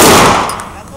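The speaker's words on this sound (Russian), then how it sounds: "Десятый патрон уверенно подается на лоток и происходит выстрел без задержки" A Remington Versa Max Tactical shotgun fires a single loud, close blast of a hand-loaded shell with 24 grams of number 5 shot, the report decaying quickly over about a second.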